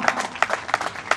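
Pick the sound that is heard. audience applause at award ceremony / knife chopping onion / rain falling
audience applause at award ceremony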